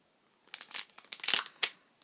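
Crisp paper crinkling and rustling from handling Be Adventurous paper envelopes and note cards, a quick cluster of close, dry rustles and crackles after a brief silence, with no talking.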